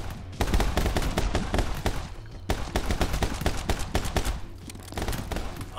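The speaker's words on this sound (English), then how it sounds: "Dodge any oncoming bullets." Incoming bullets and automatic gunfire in a video game, dense rapid volleys of loud shots with a brief gap near the start, continuous and close.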